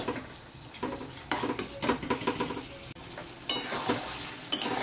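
A vegetable curry thickened with maida flour is stirred in a pan: close, uneven scraping and rubbing strokes over a soft sizzle, with occasional light clinks of the utensil against the pan.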